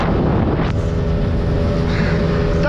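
Small motorboat engine pushed to full throttle crossing a river, a loud steady whining drone with heavy wind buffeting the microphone, rising sharply in pitch partway through.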